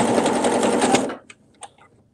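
A sewing machine runs close by for about a second, stitching a ribbed knit neckband in a rapid steady whir, then stops, followed by a few faint clicks of fabric handling.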